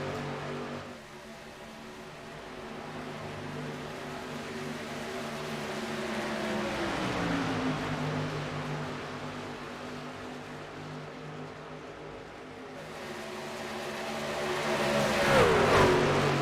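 Racing trucks roar around a speedway during a truck series race, including the number 92 truck, a continuous loud engine drone that swells and falls in pitch as the field passes, rising again near the end.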